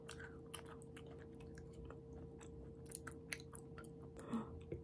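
Close, quiet chewing of crispy pastry-style yakgwa, a Korean honey cookie, with soft irregular crunches and bites over a low steady room hum and no talking.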